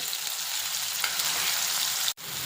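Green masala paste sizzles steadily in a hot kadhai with tomatoes while an amti is cooked, a dense, even frying hiss held close and alone before a brief cut near the end.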